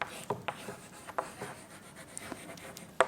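Marker or chalk writing on a board, heard as a series of short scraping strokes with faint rubbing between them, close and fairly quiet, with no talk over it.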